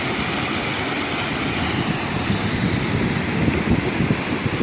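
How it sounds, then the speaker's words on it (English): Steady wind roaring and buffeting the microphone in the Catskill Mountains, a continuous low rush with no voices. "It's a little bit windy here today"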